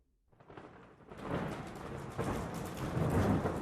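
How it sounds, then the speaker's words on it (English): Heavy rain swells in after a moment of quiet, joined by deep rumbling thunder that builds and rolls on steadily. "Tonight there is a terrible storm, and it is raining."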